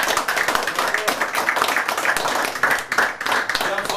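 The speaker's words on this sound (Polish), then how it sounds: "Także wielkie brawa dla twórcy rysunku." Lively close-up clapping from a small audience at a humour event, honoring the creator of a drawing; dense, uneven handclaps that keep going for several seconds with no talk over them.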